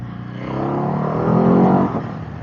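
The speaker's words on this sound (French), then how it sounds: "Ah oui, ça envoie très beau bruit de shifter." A Ducati 950 Hypermotard engine rises and falls through a quickshifter downshift, a loud close growl swelling then cutting back sharply, with no voices.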